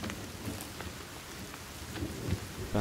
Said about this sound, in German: Regen kommt auch wieder.